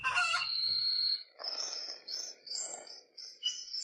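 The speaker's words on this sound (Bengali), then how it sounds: "ইয়া বড় মুরগি!" A cartoon chicken crows loudly at the start, followed by a few shorter high squawking bird calls in a clean, close soundtrack.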